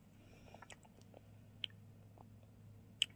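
Close, quiet chewing of a chewy croffle dusted with injeolmi soybean powder: soft sticky mouth sounds with a few faint clicks over low room hum, no speech.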